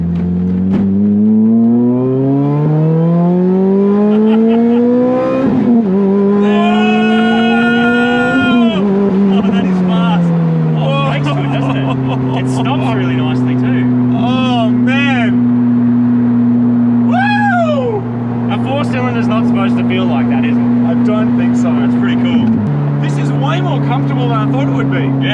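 Supercar engine running steadily while driving, with clear harmonic tones rising as it accelerates through the gears, several upshifts dropping the pitch, then settling into a steady cruise hum; people talk over it inside the cabin.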